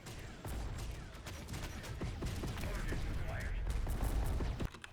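Grenade explosions and gunfire rattle in rapid succession during a battle in Uprising Sandbox, a dense run of sharp bursts at moderate loudness, with a voice speaking faintly underneath.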